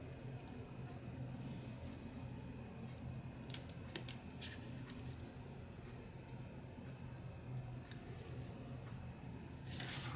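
Scissors cut paper for a handmade tunnel journal, giving a few faint, close snips scattered across a quiet background with no talking.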